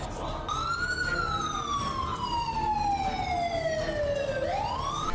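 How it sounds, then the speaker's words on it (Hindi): A single loud siren wails at militant bases in Rawalpindi, its tone gliding slowly downward for several seconds before sweeping back up, over a steady rumble of background noise. "लश्कर के अड्डों पर सायरन बजने लगे हैं।"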